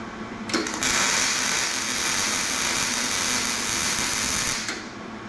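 Welding powered by an EcoFlow Delta Max 2 portable power station, a steady loud buzzing hiss that starts abruptly, holds evenly for about four seconds and then cuts off, heard up close.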